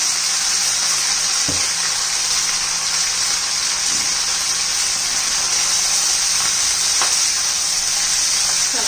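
Fenugreek leaves fry in a pan for a tomato chutney, giving a steady, loud sizzle throughout with a few soft stirring knocks and no voices.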